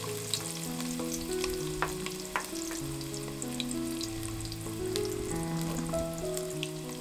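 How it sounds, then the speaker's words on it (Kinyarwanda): Onion and bell pepper fry in a pan, giving a continuous close sizzle and crackle with a few light stirring taps and no voices. "Banza ugakaranga igitunguru na poivron"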